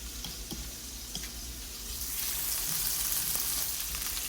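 Ginger and garlic sizzle in hot cooking oil for chicken fried rice with bacon, a steady frying hiss that grows louder and denser halfway through, with a few faint clinks.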